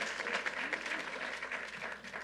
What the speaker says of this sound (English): Let's give our county executive another round of applause.